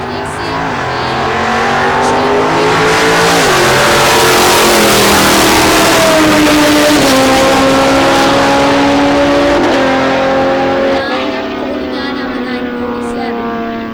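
Drag racing cars launch down the strip at the US131 Northern Nationals, a loud, continuous engine roar with rising and falling pitch sweeps that fills the whole stretch.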